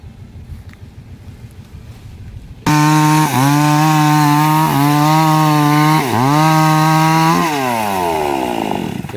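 A chainsaw starts up loud and close after a quieter moment, its engine revving and dipping in pitch several times as it bites through a large tree trunk.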